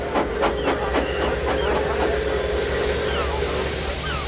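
A steam locomotive hisses steadily under dense, continuous noise on a cold, snowy railway. Faint tonal calls and brief clanks are scattered through it.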